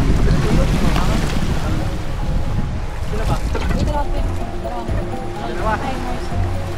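Water sloshes and splashes steadily against a leaking boat amid gusty wind noise, with people talking over the churning waves.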